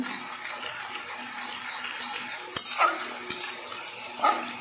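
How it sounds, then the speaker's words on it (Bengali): Spice masala being stirred in a pan over a medium flame while cooking restaurant-style paneer, a steady soft frying hiss with a few sharper scrapes and clinks of the spoon against the pan. "ওই মশলাটাকে নাড়তে হবে। ফ্লেমটা আমি মিডিয়ামেই করে দিয়েছি।"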